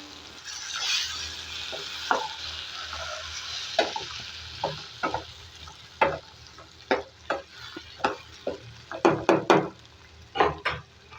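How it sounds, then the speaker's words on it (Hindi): Four medium tomatoes softening in a hot pan for restaurant-style dal, a continuous sizzle and fry under a series of irregular knocks and scrapes from a spoon stirring against the pan. "इसके अंदर 4 मीडियम साइज के टमाटरों को हम डाल के सॉफ्ट करेंगे और नरम कर लेंगे।"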